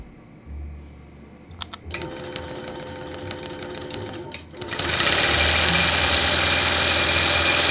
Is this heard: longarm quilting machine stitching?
yes